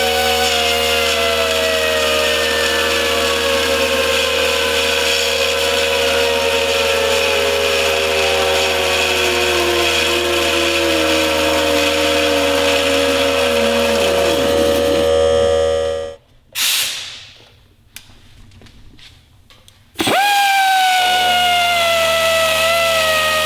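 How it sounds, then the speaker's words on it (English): An angle grinder bites through a bolt on a Porsche 944 during an LS engine swap, a loud sustained whine that slowly drops in pitch under load, cuts out abruptly, then spins back up near the end. "We're almost through the bolt, which is crazy for how little grinding we've done"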